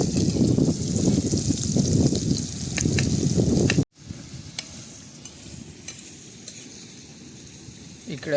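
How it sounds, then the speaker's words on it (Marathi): Prawns fry in a pan at an outdoor seaside cook-up after a sea fishing trip. A loud, dense crackling sizzle cuts off abruptly and gives way to a quieter, steady frying hiss with a few light clicks. "आणि इकडे प्राउन्स फ्राय होते अजून."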